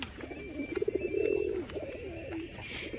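Pigeon cooing close by, a soft rolling coo that swells in the middle and then tails off, over a low background hum.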